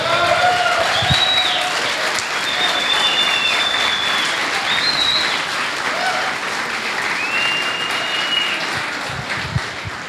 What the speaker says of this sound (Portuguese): Vamos aplaudir o Senhor Jesus pelo ministério dele?